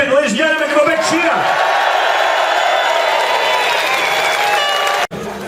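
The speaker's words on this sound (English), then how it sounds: "Ladies and gentlemen, give a big cheer." A large outdoor crowd at a 2012 Scottish independence rally in Edinburgh cheers and whoops in a loud, sustained roar with scattered clapping and whistles, cutting off abruptly near the end.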